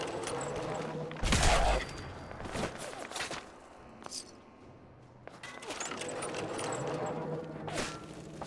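Gunfire aimed at the player in Fallout 4, a loud burst of rapid shots near the start followed by scattered sharp cracks and thuds, with footsteps and a quieter lull before more firing resumes.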